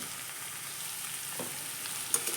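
Pointed gourd and potatoes frying with salt in a pan give a steady, soft sizzle throughout, with a faint clink of a utensil near the end and no voices.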